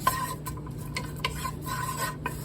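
Egyptian rocky onions sautéing in coconut oil in a pan, with a soft steady sizzle, a spoon stirring and scraping now and then, and faint clinks of utensils against cookware; no talking.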